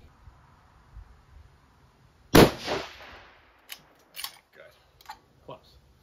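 A single sharp rifle shot from a 7mm SAUM during sighting in cracks loudly and decays quickly, followed by a few softer clicks and thumps of handling nearby.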